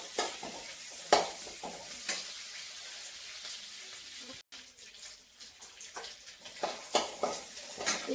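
Crushed garlic goes into hot oil already holding fennel seeds for spinach fried rice, giving off a soft, steady sizzle broken by a few sharp clinks and scrapes of stirring, fairly quiet throughout.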